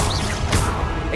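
A Confringo blasting spell striking in Hogwarts Legacy: a single crashing impact with a whooshing burst amid dense, loud game combat noise, with no talking.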